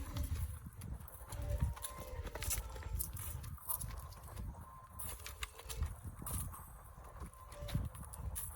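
Donkey hooves clip-clop in an uneven walking rhythm during a children's donkey-back ride along a street, close and moderately loud, with light outdoor noise and occasional voices around.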